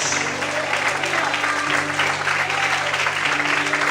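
A congregation applauds during an evening church service, dense continuous clapping with a low steady hum underneath and some voices mixed in.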